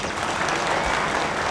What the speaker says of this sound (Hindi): एक जोरदार तालियां बनेला